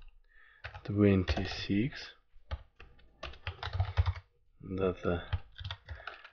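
Computer keyboard clicks from someone entering date values while coding a Flutter CupertinoDatePicker widget, soft keystrokes scattered beneath someone speaking throughout.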